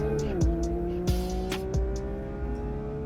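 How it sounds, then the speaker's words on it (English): A car pulls away with engine revving and a squeal of tires, the pitch of the motor falling and rising again as it accelerates in a few bursts, loud and close, with no talking. "The car drives off."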